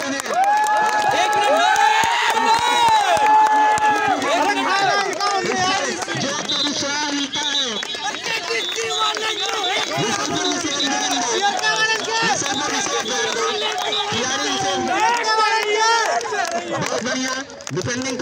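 Spectators at a college girls' match at Kisan PG College, Basti, cheer and shout excitedly with some clapping, a dense, lively crowd noise of many overlapping voices throughout.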